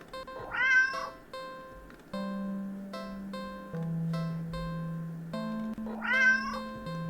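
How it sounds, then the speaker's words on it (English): Cats meow in the video game Do Not Take This Cat Home, two plaintive cries at the start and end over steady synth music tones in the background. "the ever-increasing sounds of cats meowing and yowling in the distance outside your apartment"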